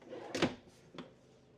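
A pull-out drawer in a 2025 Heritage Glen 38VERANDA fifth-wheel RV slides and bumps shut, a sharp knock followed by a softer second thud, close and fairly quiet.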